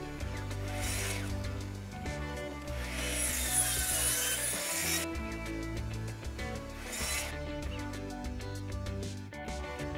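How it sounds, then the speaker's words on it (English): A saw whines steadily through wood for several seconds, loud and close, its tone shifting as the blade bites and releases, with a brief pause mid-cut. "Over at the miter saw, I cut the sides, top, bottom, and shelves to their final length."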